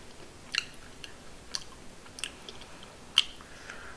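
Matdongsan, a crunchy Korean snack, being chewed close up, with a few soft crunching bites spread out over a few seconds against a quiet background.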